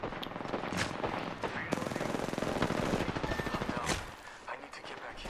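Dense, rapid gunfire rattles loudly and continuously in the video game Apex Legends while under sniper attack, then drops away after about four seconds, leaving quieter game sounds.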